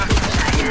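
Gunfire in the tactical shooter Valorant during a team deathmatch round, a short loud burst of rapid shots close up with no talk.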